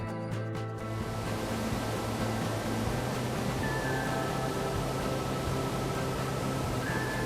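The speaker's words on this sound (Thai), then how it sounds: "นี่น้ำตกมันไหลลงมาจากบนเขานะคะ" Pha Than waterfall pouring down a mountainside on a natural, unpaved trail, heard as a steady, loud, broadband rush of falling water that continues unbroken throughout.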